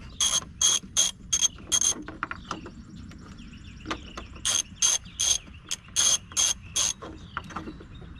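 A ratchet turns an 8mm bolt under the hood of a 2016-2022 Chevy Colorado during a spark plug change, giving loud, close bursts of rapid clicking in quick repeated strokes, with short pauses between runs and no talk.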